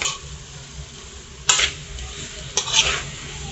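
Pasta stirred in a pan with a utensil, two scraping, sizzling strokes about a second apart over a quiet background.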